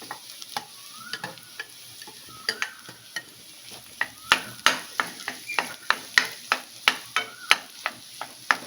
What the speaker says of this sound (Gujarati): બધું સતળાઈ જાય ત્યારે આપણે જે બાફેલા બટેટા લીધા છે એડ કરી દઈશું